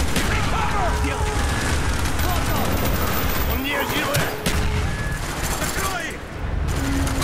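Call of Duty: Black Ops gameplay with a grenade launcher: loud, dense bursts of gunfire and booming impacts roll on continuously, with a voice talking over the battle.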